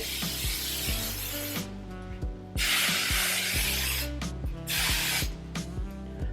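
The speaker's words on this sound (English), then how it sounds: "Let's give the top layer a good spray." Two long bursts of hairspray hiss, separated by short pauses, over a steady background of tonal music.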